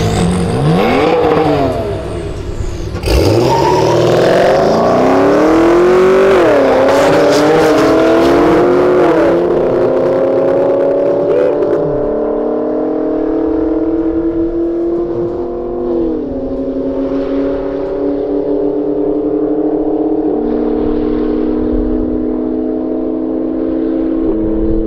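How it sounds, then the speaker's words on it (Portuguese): Chevrolet Camaro with an aftermarket exhaust accelerating hard in a street race, loud engine revving and climbing through the gears with a brief shift dip, then settling into a steady, droning roar without any voices. "Vamos ver esse Camaro aqui acelerando."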